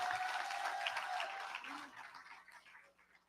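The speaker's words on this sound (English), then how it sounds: "Let's give them another round of applause," Audience applause at a PNM special convention, a broad wash of clapping from a large crowd that starts full and steadily fades away over a few seconds, with faint tonal sounds beneath.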